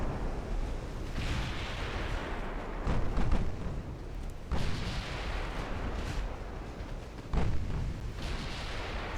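Heavy naval guns from battleships boom again and again in a strategy video game, a dense, continuous barrage with loud volleys landing every couple of seconds.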